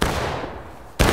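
A musket volley in War of Rights during a large Civil War line battle, the tail of one crackling volley fading out, then a sudden loud, close burst near the end, with no talk.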